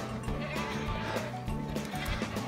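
Goats by a roadside in Turkey near Beysehir bleat repeatedly in short, wavering calls, several animals close by and overlapping one another, with no voices.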